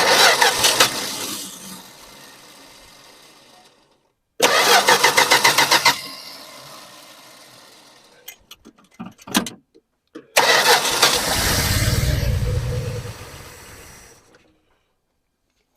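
A car engine cranks and tries to fire after fuel is poured into the carburetor, with three separate loud bursts of cranking and catching and a brief clatter between them, the last attempt running longer with a deep rumble before cutting out.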